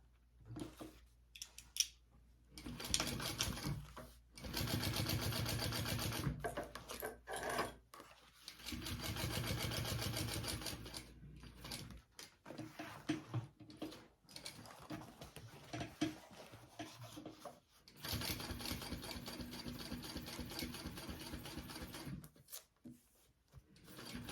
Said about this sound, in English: we're going to do a double row of top stitching